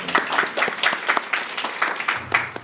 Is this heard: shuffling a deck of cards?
no